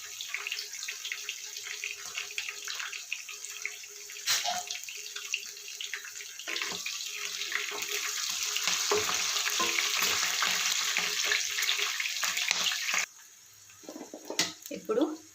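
Bay leaf and curry leaves fry lightly in hot oil for a homemade fish curry, making a bright, fairly loud sizzle that swells and then stops abruptly, followed by a few clinks.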